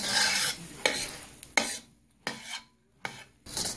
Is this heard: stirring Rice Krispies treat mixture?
yes